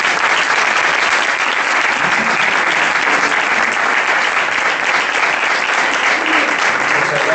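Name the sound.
audience applause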